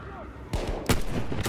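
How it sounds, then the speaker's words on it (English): Battlefield 1 gunfire pops in two or three sharp shots within a second and a half, fairly close, over a low background rumble. "Getting shot at."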